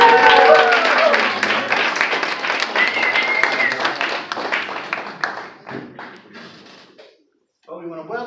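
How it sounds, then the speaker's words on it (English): Studio audience at a live comedy dating-game show bursting into applause, dense clapping and cheers that fade and thin out over several seconds into scattered claps, with voices speaking over the start and end. "Round of applause"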